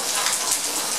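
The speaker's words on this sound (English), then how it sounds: "So it started to rain before we could enter by." Rain falling steadily, a dense even hiss of drops on surfaces with no pauses, heard alone without any voices.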